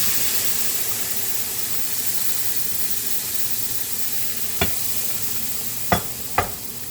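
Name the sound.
milk poured into roasted semolina, sizzling while stirred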